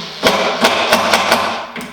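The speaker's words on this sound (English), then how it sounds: "And then I'll go ahead and put another screw in." Screw being driven into a stair starter post on a deck mount, heard as a rapid series of sharp taps and knocks, about six in two seconds, close and fairly loud with no talking.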